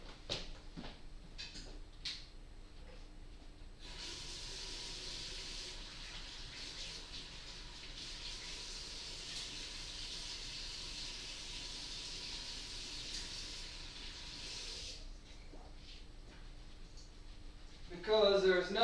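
Hands and a screwdriver washed under a running sink tap, a steady close rush of water lasting about eleven seconds, with talk before and after.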